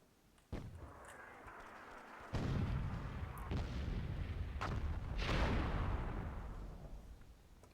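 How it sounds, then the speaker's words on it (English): Several heavy booms of cannon fire go off at irregular intervals over a rumbling, noisy background of game action in Myth II: Soulblighter. "Looks like Scratch doing some cannon work."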